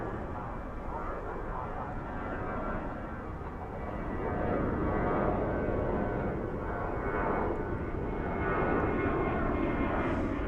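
A jet airliner departing DFW airport at night roars steadily at a distance, a broad engine rumble that swells slightly as it climbs out, with faint voices murmuring underneath.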